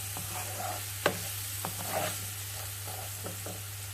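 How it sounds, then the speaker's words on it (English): Vegetables fry gently in a pan for a low-carb keto mac and cheese, a soft steady sizzle with occasional stirring clatters and one sharp utensil knock, close and without talk. "I'll just fry that just until it softens a little bit"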